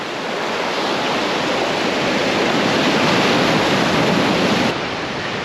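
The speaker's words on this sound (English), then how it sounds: "waves crash against the rocks close behind him" Ocean surf crashing against the rocks of a bay in Huatulco, Mexico, a steady, loud, dense roar of breaking waves close by for several seconds that eases slightly near the end.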